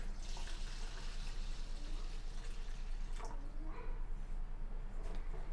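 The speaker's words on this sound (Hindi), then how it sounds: "पानी डालेंगे।" Water is poured into washed rice for an aloo masala pulao, giving a soft, continuous splashing and trickling with a few squishy sloshes, close and fairly quiet, with no talk.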